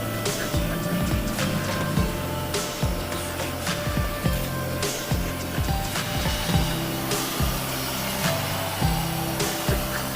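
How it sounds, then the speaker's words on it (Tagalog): A 1990s vacuum cleaner runs steadily and close, a constant motor whine and drone with rhythmic low thumps and occasional clicks as it works. "Yung vacuum namin is 1990s."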